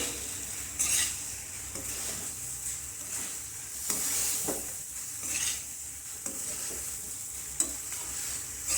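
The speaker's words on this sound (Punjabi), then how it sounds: "ਹੁਣ ਆਪਾਂ ਪਾ ਦਵਾਂਗੇ ਪਾਸਤਾ ਪਾ ਕੇ ਮਿਕਸ ਕਰ ਦਵਾਂਗੇ" Pasta stirred and mixed in a pan, a continuous close frying sizzle with repeated scraping strokes and occasional sharp clinks of the utensil against metal, no talk.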